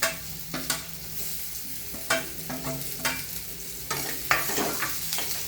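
Boiled potato is stirred into a frying onion-spice mixture in a pan on a low flame, with a steady soft sizzle under irregular clattering strokes of a spoon against the pan, close up and with no talking.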